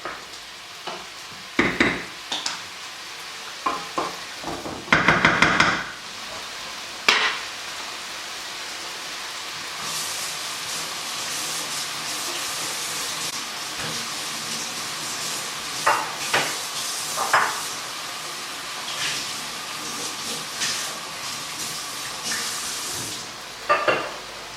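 Garlic frying in a pan while being stirred for a creamy pasta sauce: a steady hiss of sizzling oil runs throughout, with bursts of scraping and clattering stirs near the start and occasional lighter scrapes later.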